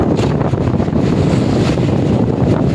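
Loud, gusty wind buffets the microphone against the rushing rumble of a moving boat and water travelling from Cambodia to Laos, continuous throughout.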